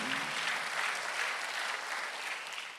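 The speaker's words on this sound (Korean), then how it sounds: "박수를 치며 하나님께 영광을 돌리시라" A church congregation at a Sunday worship service claps together, a dense, even wash of applause that holds steady and then softens slightly toward the end, with no voices over it.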